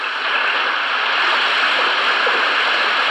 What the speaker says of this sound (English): The water started rushing out of the cave.